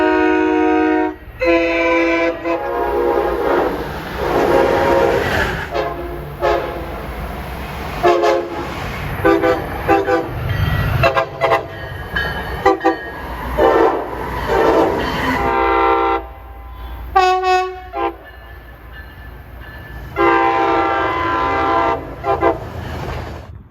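LIRR locomotives sound their horns on the Montauk Branch on a sunny afternoon. Repeated loud, drawn-out blasts, some short and some long, ride over the rumble of passing rail cars.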